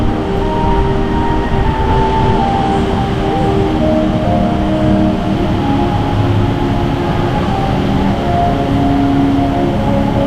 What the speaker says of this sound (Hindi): ये नीचे इनकी मेट्रो जा रही है।